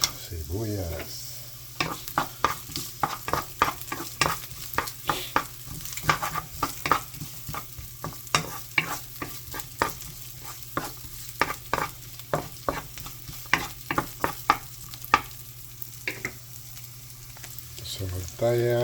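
Onions sautéing in a pan for ginisang upo, a steady sizzle broken by frequent stirring clicks and scrapes of a utensil against the pan, continuous and close.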